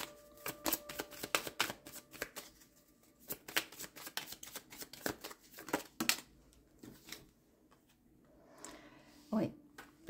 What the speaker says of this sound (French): je vais tirer une autre carte.